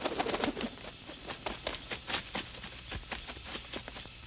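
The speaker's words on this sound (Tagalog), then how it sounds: "Ibon nga ba yun?" Pigeon or dove cooing in a movie scene, a soft repeated coo over a busy background of clicks and rustle, fairly near and moderately loud, with no talk over it.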